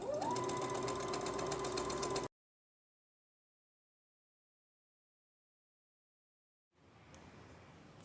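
Sewing machine running steadily as it stitches outer fabric to lining on a princess-style dress bodice, a close mechanical hum for about two seconds before cutting to silence, then faint room noise.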